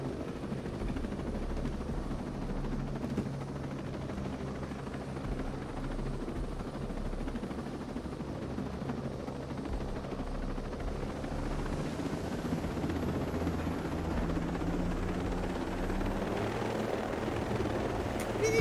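Helicopter in Ghost Recon Breakpoint, a steady low rotor thrum and engine drone that runs unbroken for the whole stretch, growing a little louder toward the end.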